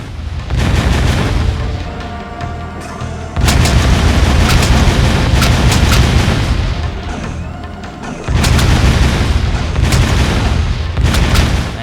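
Blasts and booms from the video game Jak II as metalhead eggs are destroyed, dense loud explosive bursts coming in several waves without letup, with no talking.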